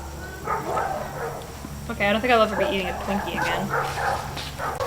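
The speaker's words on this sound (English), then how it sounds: "if you hear that barking in the background, the Humane Society is actually like right beyond the trees" Dogs at an animal shelter beyond a line of trees bark and yip repeatedly in the distance, faint and scattered beneath close, clear conversation.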